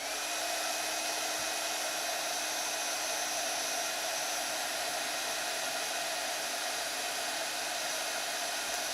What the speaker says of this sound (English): And now I'm going to heat emboss this.